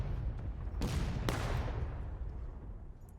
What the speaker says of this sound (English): You hear all those cannons going off